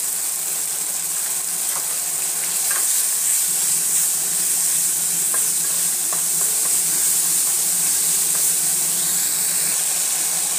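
Tomatoes fry in a pan for a fish curry with cauliflower and potato, giving a steady, close, even sizzle and hiss with occasional soft crackles and stirring clicks throughout.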